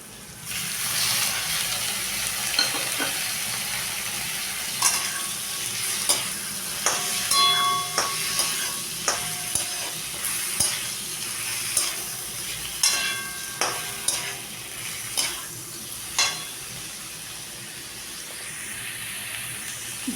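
Prawns fry lightly in a pan with a continuous hiss while a utensil scrapes and taps the pan in a loose, repeating stirring rhythm, fairly close and without speech.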